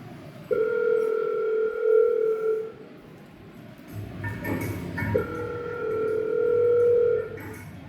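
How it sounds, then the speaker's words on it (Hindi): A telephone ringback tone from an outgoing call, two long sustained tone bursts separated by a pause, fairly loud against a faint background. "अभी फोन करके पूछती हूँ कि ठीक ठाक घर पहुँच गया"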